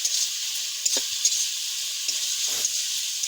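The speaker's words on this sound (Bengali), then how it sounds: "মশলা থেকে তেল ছেড়ে দিয়েছি আমি এবারে আলুটা দিয়ে দিচ্ছি" Potatoes are added to hot oil and spices in a pan for a Bengali koi fish curry, giving a steady close sizzling hiss broken by a few soft stirring scrapes.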